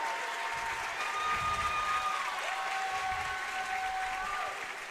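A packed high school boys basketball gym roars with continuous crowd cheering and applause, loud and sustained, with shrill whistle-like tones and a commentator's voice threaded through.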